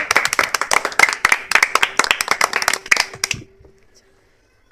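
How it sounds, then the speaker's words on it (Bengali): A group claps for the winner of a game as a prize is handed over, producing a quick, loud burst of hand claps that continues for a few seconds and then stops abruptly, leaving near silence. "নাও পারুল, তোমার পুরস্কার, সবাই হাততালি দাও"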